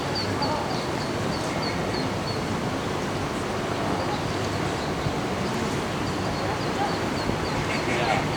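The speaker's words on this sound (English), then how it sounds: "Unmistakable call of a baby duck to their parents here in the background." Ducklings peep in a rapid, repeated series of thin high calls to their parents, steady in the background beneath a constant outdoor wash of city noise in San Antonio.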